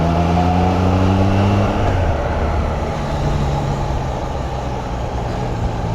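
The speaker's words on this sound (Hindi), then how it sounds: "सिर्फ बाइक की आवाज़ आ रही कानों में भाई" A motorbike engine drones steadily while riding on a road through rainy hill-country weather, with a loud constant rumble and strong wind noise that fill the whole stretch; a low engine tone drops in pitch early on.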